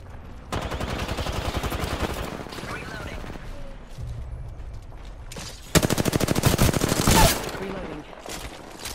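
Rapid automatic gunfire rattles in a first-person shooter video game. Two long bursts come through, one early and a louder, denser one later, separated by quieter game sounds.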